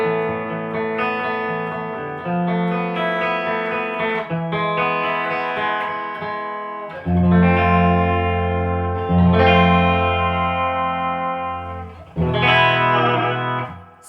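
Clean electric guitar, a Harley Benton Fusion on the neck pickup, rings through the clean channel of a Randall RH150 G3 Plus amplifier and Marshall 1960 cabinet, with sustained chords and picked notes carrying reverb and a touch of chorus, and no talking.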